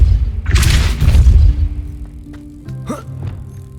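A Depulso force spell is cast in Hogwarts Legacy, giving one deep, close boom that fades into tonal magical hums, with a short chime near the end.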